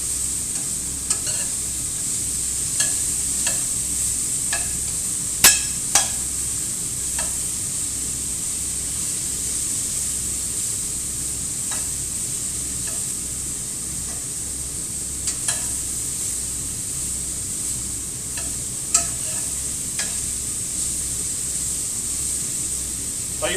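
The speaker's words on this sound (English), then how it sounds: "the reason we're stirring around, we want to try and get that nice kind of browning effectively on each broccoli" Broccoli florets are stirred around a pan over low-to-medium heat on an electric stove, giving a steady soft sizzle with occasional sharp scrapes and clicks of the utensil throughout, close and alone.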